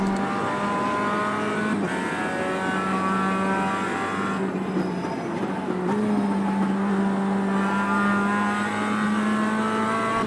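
Mazda MX-5 Cup race car in the iRacing game at Road Atlanta, engine droning steadily at high revs, with the pitch dropping on a downshift and then climbing again as the throttle is pressed, loud and continuous throughout.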